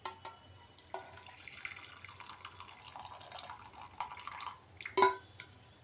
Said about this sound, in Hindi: अब हम इसको छान लेंगे जिससे इसकी पत्तियां अलग हो जाएं।